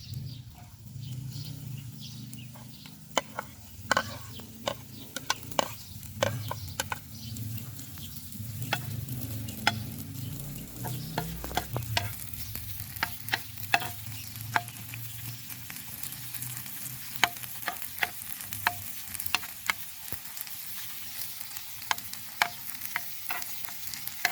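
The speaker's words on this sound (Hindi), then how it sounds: "जैसे ही ऑयल गर्म होगा तो हम इसमें चॉप प्याज शामिल कर देंगे" Chopped onions fry in hot oil with a steady, close sizzle and frequent sharp clicks from stirring. The sound carries on for about twenty seconds with no talking.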